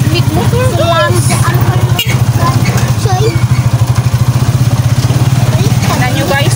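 Motorcycle riding along a rough, uneven road, its mid-pitched engine droning steadily and closely throughout with a pulsing rhythm as the bike bumps along, and a voice talking over it.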